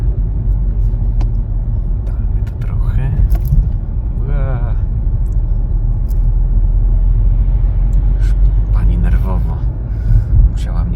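A 2013 Volkswagen Golf VII 1.4 TSI, 122 hp Comfortline, driving on the road: a steady low engine and tyre rumble fills the cabin throughout, while someone speaks intermittently over it.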